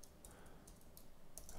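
Keys on a computer keyboard tap out Chinese text in irregular bursts of light, crisp clicks, faint and close, with soft background hiss between strokes.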